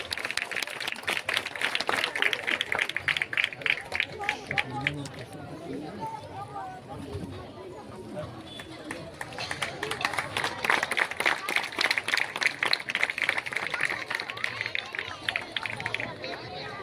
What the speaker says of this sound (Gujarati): તાળીઓ બંધ ના થવી જોઈએ.